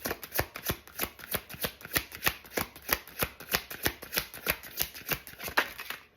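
A tarot card deck being shuffled: a quick, steady run of crisp riffling card snaps, close and fairly quiet, with no talking.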